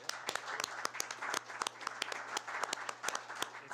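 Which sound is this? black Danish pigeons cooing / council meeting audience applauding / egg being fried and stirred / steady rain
council meeting audience applauding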